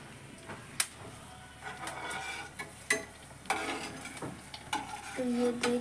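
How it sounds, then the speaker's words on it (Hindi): Corn kachori frying in oil in a kadhai: soft sizzling with scattered clinks and stirring clatters of a utensil against the pan, fairly close, no talking. "ये डाल दी हमने कढ़ाई में कचौड़ी।"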